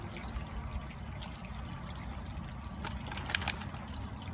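Water from a garden hose runs through Flourite aquarium substrate being rinsed outdoors, a steady close trickling and pouring wash that holds level throughout, with a brief splashy rise near the end.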